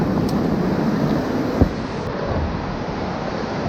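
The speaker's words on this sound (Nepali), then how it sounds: "मर्साङदी खोलाको साइडमा छौँ हामी" The Marsyangdi river rushes beside a road in Lamjung, a broad steady roar of flowing water filling the whole clip with no talk.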